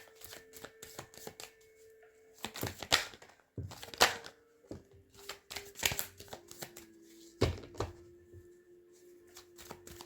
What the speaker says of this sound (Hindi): और निकाल लेंगे एक कार्ड फ्लिप हुआ है यहाँ पर।